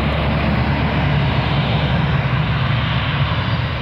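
A jet airliner's engines roar steadily at close range after landing as the aircraft taxis and turns, a loud continuous broadband rumble with no voices.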